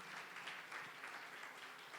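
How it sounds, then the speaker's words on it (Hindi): A church congregation claps for the Lord at a worship service, a dense, steady wash of applause filling the whole moment without any voices over it. "जोर से प्रभु के लिए ताली बजाएंगे।"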